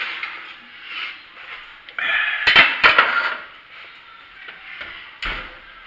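Goat shoulder meat lifted out of a pan after an hour in the oven, with soft clanks and scrapes of metal utensils against the pan, a few sharp knocks, and quiet handling noises in between.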